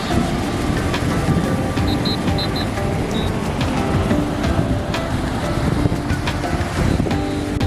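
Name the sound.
strong beach waves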